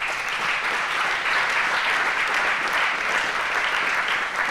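Steady, dense applause from a lecture audience at a popular-university conference in Bordeaux, a continuous wash of many hands clapping at even loudness throughout, with no talk over it.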